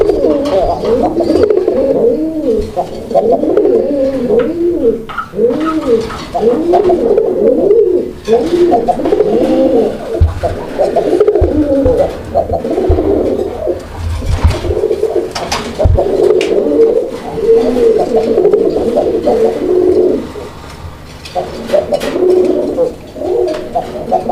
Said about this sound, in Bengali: আপনারা কবুতর দেখেন একদম অ্যাক্টিভ আছে এই পেয়ারটাও, এবং আলহামদুলিল্লাহ অনেক চমৎকার ভাবে ডাকে